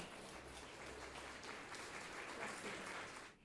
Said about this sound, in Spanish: vamos a aplaudir a Ana Paula